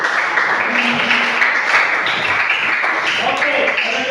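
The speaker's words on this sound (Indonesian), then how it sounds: "tepuk tangan dulu." A class of students claps their hands together during an Indonesian lesson, a dense, steady patter of applause lasting several seconds with voices mixed in underneath.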